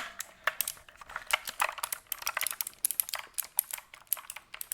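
Rapid clicky mechanical keyboard typing, close and crisp, with dense irregular keystrokes and sharp bright clacks, no talking.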